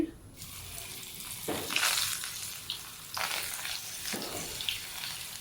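Coated mutton pieces are dropped one by one into hot oil, each landing with a fresh surge of sizzling over a steady crackling fry, with faint movement noises between.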